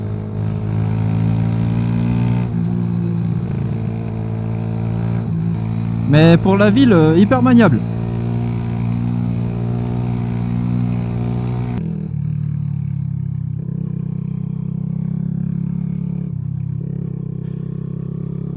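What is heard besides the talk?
Mash Black Seven 125cc motorcycle engine while riding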